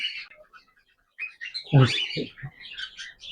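Bright, short chirps come from a cockatiel inside a breeding box, arriving in scattered bursts with brief quiet gaps between calls.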